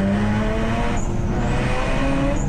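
Saloon race cars circulating at Snetterton circuit, a loud continuous blend of several engines with layered tones and faint high tyre squeal, shifting pitch as the pack races past.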